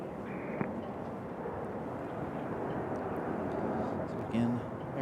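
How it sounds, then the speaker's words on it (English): A steady roar from an Aeromexico airliner arriving from Mexico City as it floats just above runway 5 left at Raleigh-Durham International before touchdown, heard at a distance, broad and sustained with wind noise. "Aero Mexico going to float in there right before touchdown"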